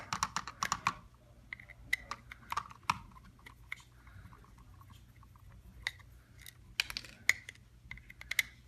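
Small screws being worked out of a pair of Bob Marley headphones, a run of light, sharp clicks and ticks from a screwdriver and plastic housing, close and quiet, with brief pauses and no talking.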